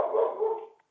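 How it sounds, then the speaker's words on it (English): A single short dog bark rings out close and clear, then stops abruptly into silence. "You just barked. That is my dog, Madison."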